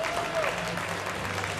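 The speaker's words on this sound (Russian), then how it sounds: "Здесь по плану должны быть ваши аплодисменты" Crowd applause at a professional boxing event, following the ring announcer's introduction of a WBC cruiserweight title contender: a dense, continuous wash of clapping with some crowd murmur over a low hum.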